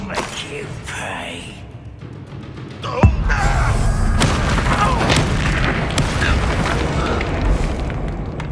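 A loud Bombarda spell explosion in the Hogwarts Legacy video game hits with a sharp boom about three seconds in, then a sustained roaring, crackling rumble of debris and effects continues, with a game voice briefly audible.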